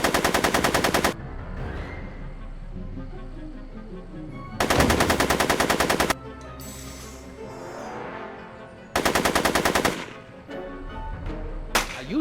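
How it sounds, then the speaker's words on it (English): Rapid machine-gun fire from the video game Back to the Future: The Game comes in three loud, sustained bursts and a brief final one, with quieter game sounds between them. "Are you shooting at me?"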